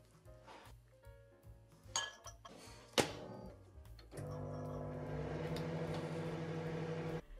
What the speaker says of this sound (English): put the entire thing into the microwave and turn it on